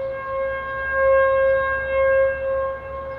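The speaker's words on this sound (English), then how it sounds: "they test out the civil defense sirens, aka our tornado sirens" Civil defense tornado siren heard during a test, a steady sustained tone rising and falling slightly in loudness, carrying from a distance.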